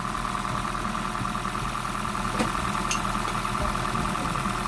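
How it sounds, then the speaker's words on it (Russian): A Toyota Prius 30 engine idles noisily and steadily, a constant rough hum with a rattling edge and no talking. "Ну, двигатель работает как-то шумновато."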